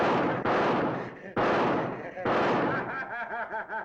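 Sniper gunfire in a 1958 gangster film, with loud sharp shots and rumbling blasts in three heavy bursts, followed by fading ricochet-like whines. Shouting voices sound under the shots.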